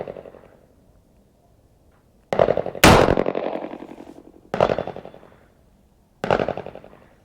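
Shots from an American Derringer BTJ DA .38 Special fired from the bottom barrel: four sharp, loud reports spaced a second or two apart outdoors, each trailing a long echoing decay, the second one the strongest.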